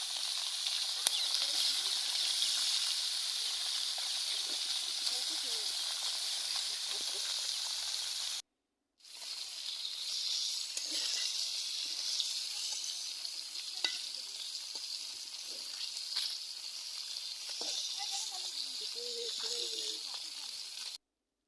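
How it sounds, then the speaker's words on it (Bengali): Small koi fish fry lightly in a pan with a steady bright sizzle that cuts out for a moment and then resumes, with faint occasional clatters and soft talk beneath. "তো এই তো কই মাছগুলো এখন আমি হালকা ভেজে নিব।"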